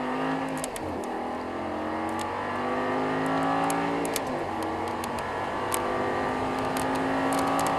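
An Audi R8 in the racing game Assetto Corsa, driven at Paul Ricard, revs and accelerates with a continuous rising engine whine, occasional sharp ticks over the drone, and no talk.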